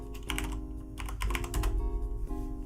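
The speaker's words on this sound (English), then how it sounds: "we're going to type in revenue" Typing on a computer keyboard while entering text into a Microsoft Excel spreadsheet: quick clusters of close, crisp key clicks in uneven bursts over a low steady hum.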